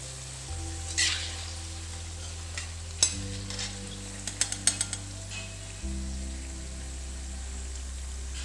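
Jackfruit manchurian pieces fry in oil for a second round, a faint continuous sizzle beneath a low steady hum, broken by a few sharp clinks and taps partway through.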